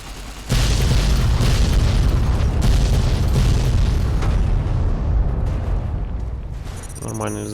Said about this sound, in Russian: Нормальный взрыв такой был.